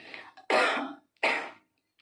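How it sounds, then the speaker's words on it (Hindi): A woman coughs twice, sharp and close, with a brief throat-clearing sound before the first cough, in a quiet room during a lecture. "खांसी आ गई"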